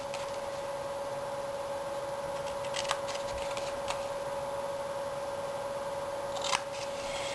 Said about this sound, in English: you are going to cut with your scissor, just one cut along the side